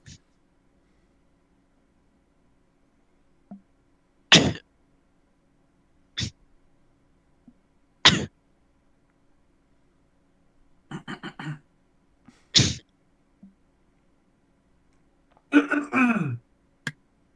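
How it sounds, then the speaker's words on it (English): Several separate harsh coughs come one at a time with pauses between them in a quiet room, with a short burst of voice near the end. "I actually have a cough."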